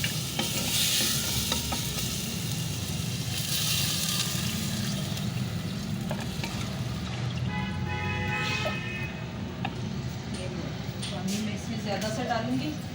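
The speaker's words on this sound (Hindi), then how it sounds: "अब मैं इसमें डाल देती हूँ पानी।" Water is poured into a pot of browned mutton pieces frying for yakhni, setting off loud sizzling and bubbling that gradually settles to a hiss, with someone talking over the cooking.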